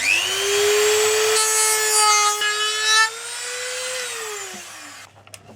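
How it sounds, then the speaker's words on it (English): A Dremel rotary tool sands back the plastic side guard of an XRAY 808 RC car: a loud, steady high motor whine that shifts pitch as it bites, then winds down, followed by a few small clicks. "I'm going to be using a Dremel."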